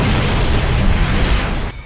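Fuel Rod Cannon firing in the Halo video game, a heavy sustained explosive boom with a broad rushing roar that cuts off abruptly near the end, loud and close.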